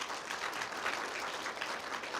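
Sustained applause from an audience honoring the martyr Yu Gwan-sun at a Korean religious lecture, a steady dense clapping wash with no talk over it.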